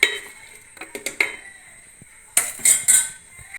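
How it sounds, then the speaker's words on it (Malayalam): A metal lid is set onto a cooking pot in a kitchen while making kumbalanga pulissery, bringing a series of close clinks and clatters of metal on metal, a short pause, then a louder rattling settle. "ഇത് അടച്ചു വെക്കാം."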